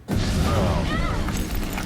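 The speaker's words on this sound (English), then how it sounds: "There was a real explosion?" A loud explosion in an Agents of Shield episode, a dense sustained blast of broadband roar and rumble lasting nearly two seconds, close and overwhelming, with voices mixed into the din.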